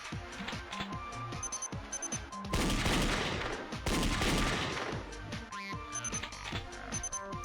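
Video game gunfire from Danganronpa Another: Another Despair Academy, rapid bursts of shots over game music, with a dense sustained volley in the middle and quicker clicks and shots around it.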